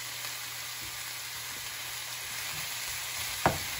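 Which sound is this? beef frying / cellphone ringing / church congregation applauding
beef frying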